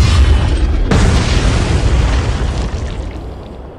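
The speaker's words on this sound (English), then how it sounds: "Boom! You can't avoid these torpedoes." A deep, heavy torpedo explosion from the Uboat Attack video game booms loudly, with a sudden blast at the start and a second impact just under a second later, then a long rumbling decay.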